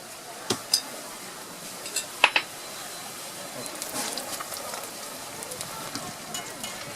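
Churros frying in hot oil, a steady soft crackle and fizz with a few sharper pops early on, fairly quiet and continuous without talk.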